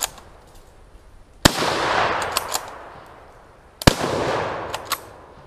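A Turk Mauser rifle fires two sharp, loud shots a few seconds apart outdoors, each crack trailing into a long rolling echo with small clicks of the action between.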